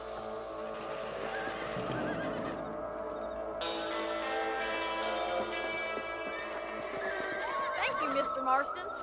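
A horse in the western game Red Dead Redemption neighs and whinnies near the start and again toward the end. Hoof clops and outdoor ambience run underneath, and people talk over it.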